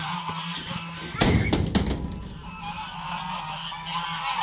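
Geese honking as they are herded on a farm, a short, loud burst of overlapping honks in the middle over steady outdoor background noise.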